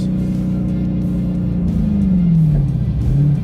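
Dodge Challenger with a 6.4-liter V8 revs loudly and close, a deep steady burbling rumble whose pitch swells and then falls back as the throttle rises and eases.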